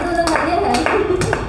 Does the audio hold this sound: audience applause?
yes